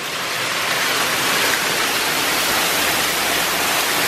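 Heavy rain pours down in thick, continuous waves, heard from under the canopy of a covered front porch, a loud, steady hiss with no let-up and no talking.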